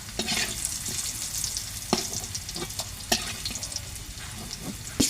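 Sweet pumpkin slices fry in oil, giving a steady close sizzle with occasional sharp pops and utensil clinks throughout, no voices.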